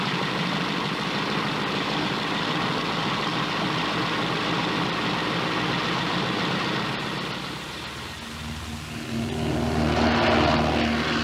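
A propeller airplane drones steadily in flight over an Australian outback medical service route, a loud continuous engine hum that dips briefly, then swells again near the end, with no voices.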